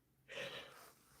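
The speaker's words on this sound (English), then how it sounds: "excuse me, sneezing. I got allergies right now." A single breathy sneeze from a person with allergies, close and fairly soft, a short burst that trails off.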